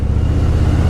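Steady, loud engine drone and road rumble from a vehicle being ridden along a road toward Sarjapur Road, a continuous low hum with no talking.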